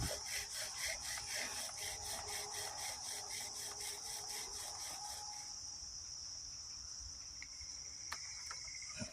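Friction fire-making with wood outdoors: a quick, steady back-and-forth rubbing and grinding of wood on wood for about five seconds, then the strokes stop and a steady high hiss remains.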